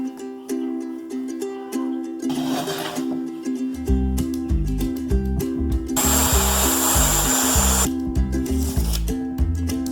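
A power saw cuts wood for chicken nesting boxes in a few short bursts, loud and close, over steady background music with a rhythmic beat.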